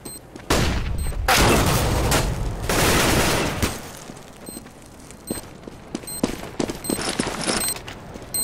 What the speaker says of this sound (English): Grenade. Smoke. Flashbang. Bomb has been planted. I'm throwing a flashbang.